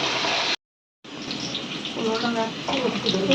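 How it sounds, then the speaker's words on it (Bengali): Water pours steadily into a pot of chicken pieces set on to cook in plenty of oil, a continuous gushing fill that cuts off briefly and then resumes, close and fairly loud with no talk. "মুরগির মাংস বসায় তারপরে পানি দিয়ে দিচ্ছে"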